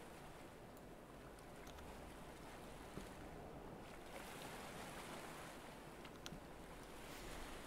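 Continuous rolling surf and wave wash from the open sea in the Stormworks game, with steady wind noise underneath and a couple of faint knocks, no voices.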